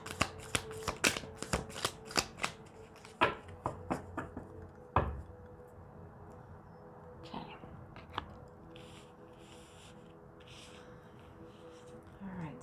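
Oracle cards being shuffled for a reading, a run of crisp slapping riffles and taps in the first few seconds, then quieter scattered card sounds, close and soft.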